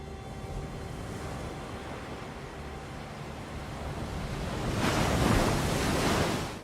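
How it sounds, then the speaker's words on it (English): Surf washes onto a beach at the opening of Saving Private Ryan, a continuous hiss of waves with wind rumble, building into a louder breaking wash near the end, with no voices. "we hear the sound of a beach"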